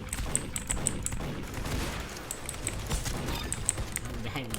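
Rapid bursts of gunfire in the Roblox shooter Arsenal, a fast crackle of repeated shots, mixed under loud excited talk throughout.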